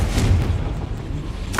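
Confringo blasting spell going off inside a goblin mine in the Hogwarts Legacy video game, a dull low boom that rumbles through the short clip with a brief brighter crack near the end.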